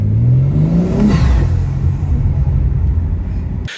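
A 2022 BMW M4 Competition (G82) with aftermarket intakes revs hard, a loud close engine roar that climbs in pitch and then falls into a sustained rumble before cutting off abruptly.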